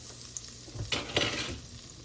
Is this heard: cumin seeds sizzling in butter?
yes